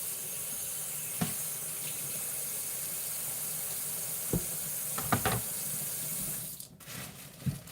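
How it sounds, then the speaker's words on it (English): Water runs steadily from a kitchen tap as potatoes are rinsed in the sink, a continuous hiss with a few soft knocks and clunks, before the flow cuts off near the end. "I'm going to give this a little rinse."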